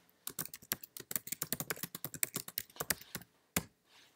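Fingers type fast on a computer keyboard during a typing test, a rapid, uneven run of close, crisp key clicks with a brief pause near the end.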